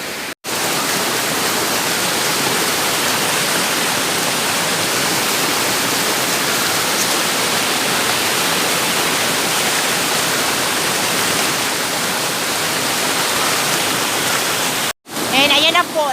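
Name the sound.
Tamadong Falls waterfall, strong flowing water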